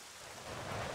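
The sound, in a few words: rain and thunder in video game Zelda Twilight Princess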